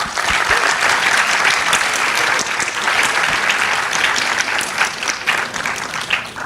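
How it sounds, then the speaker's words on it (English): An audience at an actuarial summit gives a panel session a loud round of applause, steady dense clapping filling the room for the whole stretch with a few louder individual claps near the end. "please give them a round of applause."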